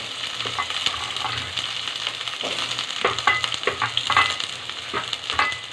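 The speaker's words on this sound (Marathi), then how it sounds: "आपण कांदा चांगला आता परतून घ्यायचा आहे" Onions sauté in a little oil in a pan with a steady, soft sizzle and crackle, broken by occasional stirring scrapes and small pops, with no speech.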